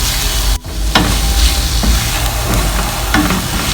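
Chicken cutlet mixture with chopped green chillies fries in a hot pan, giving a loud, continuous sizzle broken by a few scraping stir strokes and a brief dip. No one speaks.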